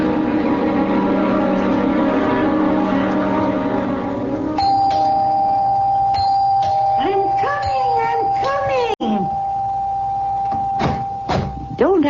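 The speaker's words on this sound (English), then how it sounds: "Don't have to rip the bell off the door, young man." A doorbell rings as a radio drama sound effect, a sustained tone with repeated chime strikes standing out against background music, followed by people talking over it.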